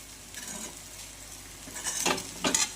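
Sabudana usal with green chilli and turmeric stirred in a pan: soft scraping strokes and faint sizzle, with a few louder spoon scrapes toward the end.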